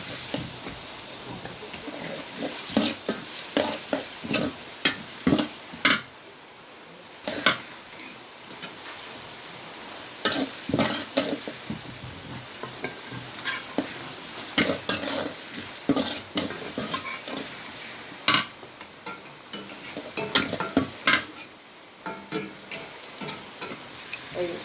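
Chopped onion and two bay leaves frying in a pan while being stirred, with a soft continuous sizzle broken by frequent sharp scrapes and clacks of the spoon against the pan, close and without talk.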